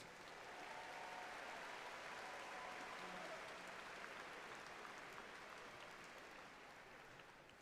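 Faint, distant applause fills a fall commencement ceremony hall for doctoral graduates, an even wash of many hands clapping that holds steady and then tapers slightly toward the end.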